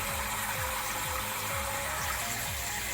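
Water pours steadily into a tank being filled, a continuous broadband rush with a faint repeating low pump-like pulse underneath and no talking.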